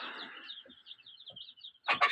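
Chickens on a small mini chicken farm in Astana cluck and peep softly in a quick, steady series of short calls, followed by a brief louder burst of noise at the end.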